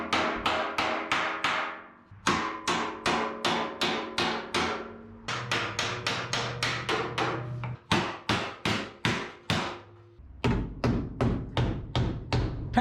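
A hammer taps repeatedly on a car body panel during rust repair, delivering quick runs of sharp, ringing metallic strikes in several rhythmic bursts with brief pauses between them, close and clear.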